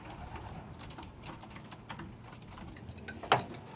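Young cock pigeons coo softly in their nest box, a low murmur under faint shuffling and light tapping, with a sharp click near the end.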